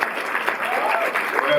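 A cinema club audience claps for a guest at a screening presentation, a dense, loud burst of applause filling the short stretch, with voices mixed in beneath the clapping.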